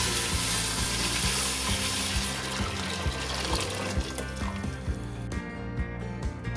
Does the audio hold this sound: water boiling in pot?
yes